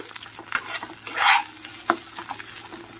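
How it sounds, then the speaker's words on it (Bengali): Green chillies and ginger sauté in a pan with a soft, steady sizzle broken by the scrape of stirring and a brief louder burst, all close and moderately quiet. "আর কয়েকটা কাঁচা লঙ্কা একটুখানি সাঁতলে নেব"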